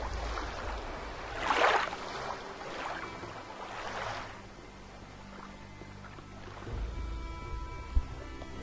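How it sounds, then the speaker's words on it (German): Waves washing against a shore in the video game Gothic 2, a soft broad surge that swells and recedes several times under a steady hiss of water, with a brief thump near the end. "Oh ne, jetzt kommen wieder die Wellen."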